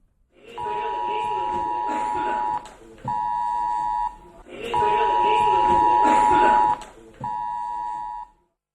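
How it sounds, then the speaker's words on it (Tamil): A government emergency alert tone sounds from mobile phones during a disaster-warning test, a loud steady electronic buzzing tone repeated in four long bursts separated by short gaps, under a faint background voice. "பேரிடர் காலங்களில் மக்களை எச்சரிக்கும் வகையில் செல்போன்களில் அபாய ஒலியுடன் குறுஞ்செய்தி அனுப்பி"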